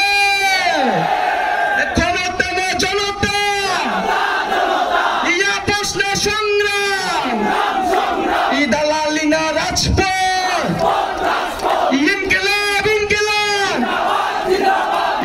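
Large rally crowd in Chittagong chanting political slogans in loud, rhythmic unison bursts, repeated call-and-response phrases swelling and pausing every few seconds.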